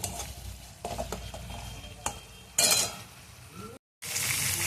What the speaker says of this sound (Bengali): মশলাটা আমি একটু সামান্য হলুদ দিয়ে ভেজে ভেজে নিচ্ছি